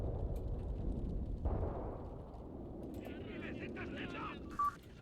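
Grenade blasts in the wartime tactics game Graviteam Tactics, with a soft thud near the start and a lighter crackle of combat later, all fairly faint under a speaking voice.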